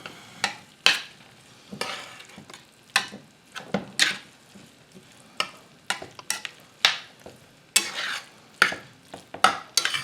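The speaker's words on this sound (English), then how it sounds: "Okay, now we just stir this up." A spoon stirs ground beef sloppy joe mixture in a frying pan, making repeated scraping strokes over a soft sizzle. The strokes come in an irregular rhythm and sound close and fairly loud.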